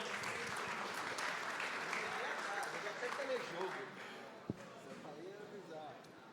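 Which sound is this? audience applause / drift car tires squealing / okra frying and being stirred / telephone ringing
audience applause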